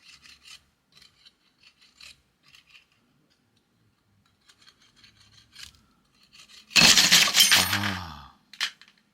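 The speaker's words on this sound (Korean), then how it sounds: "이 끈을 조금씩 잘라 볼게요" A cheap Chinese camera strap holding a 12 kg water pack is cut bit by bit, giving sparse faint scraping snips that build into a loud, close rasping cut near the end.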